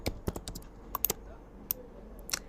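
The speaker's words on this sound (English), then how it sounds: "I'm going to click on T on my keyboard and I'm going to type sales report" Keys tapped on a computer keyboard while entering text in a design program, a quick irregular run of close, crisp clicks with short pauses between bursts.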